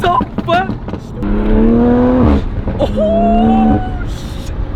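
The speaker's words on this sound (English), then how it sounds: "his Supra sounds insane. I don't know if you guys been hearing it, but this thing pops like crazy." Toyota Supra in New York City revving hard, its exhaust roaring with rising engine tones and popping crackles between pulls, loud and close, with excited voices over it.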